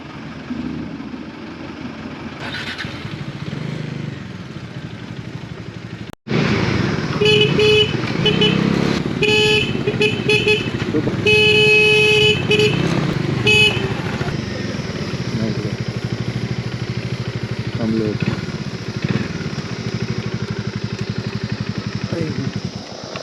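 Amid road traffic and engine noise on a Kedarnath to Rishikesh route, a motorcycle horn sounds in a burst of repeated honks, loud and close, while people talk.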